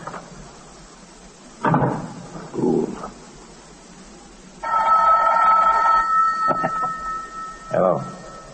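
An old telephone bell rings in a 1940s radio mystery drama, a sustained bright ring of about a second and a half heard mid-scene between short bursts of speech and room noise.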